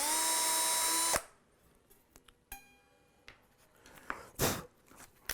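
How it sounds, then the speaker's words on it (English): A power drill whines steadily at close range for about a second, drilling a hole in a guitar headstock, then stops, followed by scattered clicks and handling knocks. "drill your hole."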